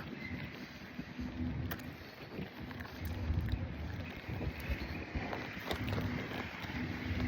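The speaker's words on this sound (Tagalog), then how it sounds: "Grabe ang hangin." Strong, cold wind roars steadily on a morning in Japan, buffeting the microphone with constant rumbling gusts from start to finish.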